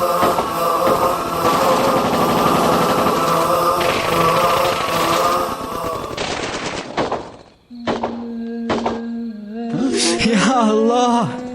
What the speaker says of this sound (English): it sounds like someone's being shot. Too many bullets are being fired for one person to be shot.